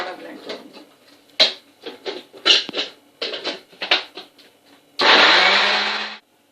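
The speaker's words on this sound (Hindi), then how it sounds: "अब इसको दोबारा ब्लेंड करूंगी।" Kitchen blender whirring steadily for about a second near the end while mixing a dates milkshake with vanilla, preceded by clinks and handling noises.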